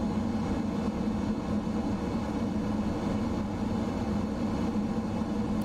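Steady, loud jet engine roar of an F-15E in Microsoft Flight Simulator 2020, a continuous broadband rumble holding even throughout with no talk.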